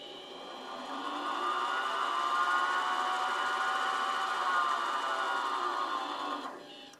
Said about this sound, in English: So here's how it spins on the lathe.